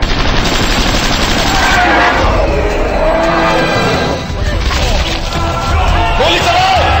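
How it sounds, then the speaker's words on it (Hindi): Dense gunfire from an action film crackles in a loud, continuous fusillade of rapid shots and crashes, with raised voices mixed into the chaos. "गोली चलो"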